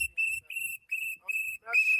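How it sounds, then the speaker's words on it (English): Whistles blown by a protest watch group at an ICE protest, sounding in a string of short, shrill, repeated blasts with brief gaps between them, loud and close. "We have whistles."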